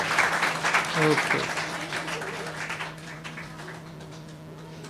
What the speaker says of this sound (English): all three of them, a big hand of applause.